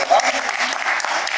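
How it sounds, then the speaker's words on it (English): Audience applause fills an awards ceremony for volunteers, a steady wash of many hands clapping at close range from start to finish. "give yourselves all a big round of applause."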